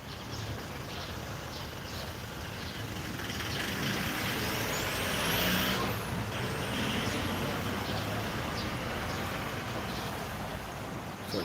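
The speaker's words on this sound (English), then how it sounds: "So a truck pull in that I don't recognize." A truck pulls in near a beach market in Thailand at sunrise, its steady engine rumble swelling closer toward the middle and easing off, with a faint hiss near the end and constant outdoor noise.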